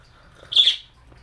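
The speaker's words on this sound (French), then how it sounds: "les oiseaux vont nous jaser ça" A single short, high chirp from a bird, bright and clear against a quiet background.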